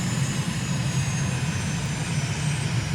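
Airplane engine roaring steadily at full throttle during a takeoff roll from a runway in Microsoft Flight Simulator, a loud, continuous propeller-like drone with no voices.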